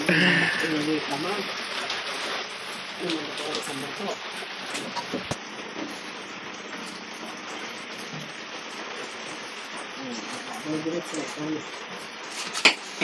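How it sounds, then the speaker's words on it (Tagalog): Rain falls steadily on an island, a broadband wash with soft drops heard under people talking while a snack is cooked nearby. "Maulan ngayon guys."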